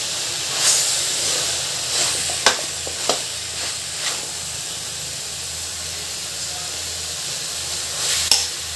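Cauliflower and dried shrimp curry stirred in a pan as the oil separates, giving a steady hiss of simmering with occasional spoon scrapes against the metal, close and alone.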